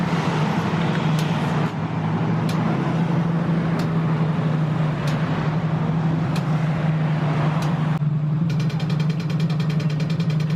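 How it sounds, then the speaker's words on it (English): Heavy city traffic in Melbourne's suburb of Spotswood, a steady low engine drone with passing vehicles and occasional sharp clicks, continuous and fairly near, with no talking. "Heavy traffic."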